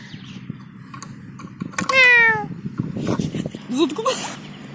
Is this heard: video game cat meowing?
yes